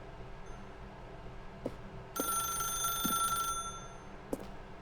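Telephone ringing inside The Stanley Parable video game, a bright electronic ring burst lasting about a second over a low ambient hum, with a few soft clicks around it.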